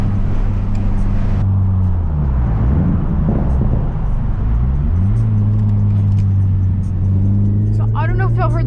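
A car engine revs and drones steadily close by, its pitch sweeping down and back up, with a few sharp exhaust pops near the end.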